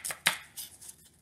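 A knife chops roughly through fresh coriander stalks on a board for pork gyoza, giving two sharp close cuts early on and then a few softer taps that fade out.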